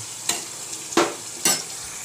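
Onions fry in a pan for chicken sukka as masala is stirred in. Three distinct scraping strokes of a spoon sit over a soft, steady sizzle.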